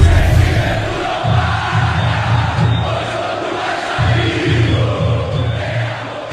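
Crowd chanting and cheering with a rhythmic, pulsing low beat, a stadium-style intro jingle for a Vasco football fan channel, loud and continuous with no talking.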